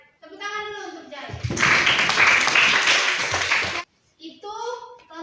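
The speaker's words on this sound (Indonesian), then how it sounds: "tepuk tangan dulu untuk Jai" Classroom applause for a student bursts out loud and dense for about two and a half seconds, with a voice heard before and after it.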